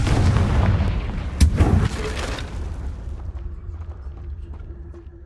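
A Confringo blasting spell explodes in Hogwarts Legacy: one loud, sharp boom near the start, then a rumbling burst that fades into a low, steady game background.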